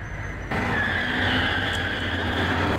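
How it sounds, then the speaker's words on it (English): Cars skidding in the video game Max Payne, a steady sustained tire screech with engine rumble beneath, continuous and fairly loud, with no voices. "What do I hear? Like cars?"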